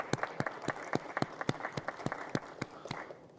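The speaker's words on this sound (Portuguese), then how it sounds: "Deixa eu dar uma salva de palmas aí." Applause for a senator breaks out in a legislative session: a fairly quick run of sharp, distinct hand claps from a small group, close and clear, lasting a few seconds without speech.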